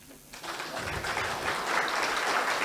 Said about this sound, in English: Give a clap for Rodney.